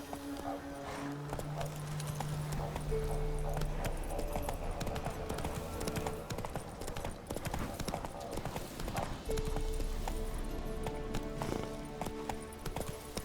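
Geralt's horse Roach gallops in The Witcher 3: Wild Hunt, a steady drumming of hooves running under game music, with a brief whinny and a voice speaking.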